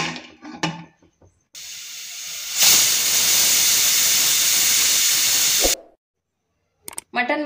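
A pressure cooker with mutton inside gives off a loud, steady hiss of escaping steam for about three seconds, then cuts off sharply, with brief bursts of voices before and after.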